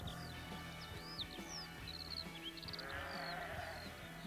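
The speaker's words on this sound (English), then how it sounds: "Back to your pastures, you little sheep." Sheep bleating in a song: several short, wavering bleats repeat over a steady, pulsing musical backing, clear above the instruments.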